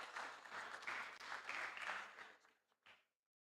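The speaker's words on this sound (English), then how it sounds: "Please clap for him." A conference audience applauds an award presenter at a civil and environmental engineering event, a steady wash of clapping that swells and then tapers off quickly near the end.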